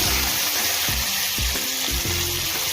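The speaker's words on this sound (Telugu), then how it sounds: "ఉల్లిపాయ ఇవి బాగా ఎర్రగా అయ్యే వరకు వేయించుకోవాలి" Curry leaves and onions fry in hot oil with a loud, steady sizzle, broken by a few soft scraping stirs; no voices.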